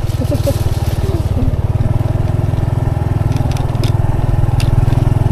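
Motorcycle engine running steadily at close range during a mountain trip in rainy weather, a loud, even pulsing throb throughout, with faint voices underneath.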